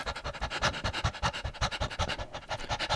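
A person imitates a panting dog with quick, rhythmic, breathy huffs, about six per second, close and steady for the whole stretch.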